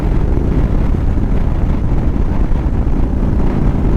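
A 1999 Harley-Davidson FLSTF with an 80-inch Evo engine and S&S Hot Set Up cams and carb runs, a loud, steady low rumble mixed with wind rush, continuous and close with no talk.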